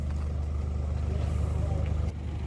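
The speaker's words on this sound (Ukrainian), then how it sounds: "О, і зараз ще підганяє екстрейла." A Nissan X-Trail is driven up nearby, its engine a steady low rumble that holds even and close before easing off near the end, with a voice speaking over it.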